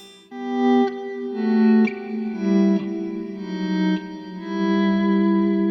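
Sustained keyboard chords in sixths shift every second or so, played with a swell pedal, each one ringing out with a wash of reverb and a slightly distorted, swirling tone.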